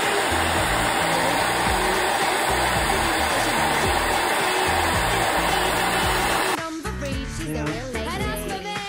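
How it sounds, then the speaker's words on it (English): A hair dryer blows with a steady, loud whooshing hum in a bathroom for several seconds, then cuts off abruptly, leaving quieter room noise. "Dry it with a hairdryer in the bathroom"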